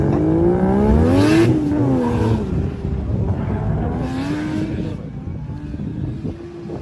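Race cars pull away from a start at the traffic lights in a loud, continuous engine roar, with rising and bending pitch as they accelerate, briefly swelling before tapering off.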